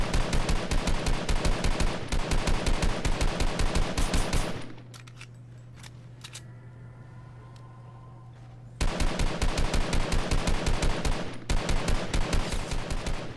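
SCAR assault rifle fire in Fortnite, loud rapid bursts of evenly spaced shots that stop for a few seconds of quieter low hum and resume in another long burst, with brief gaps between strings.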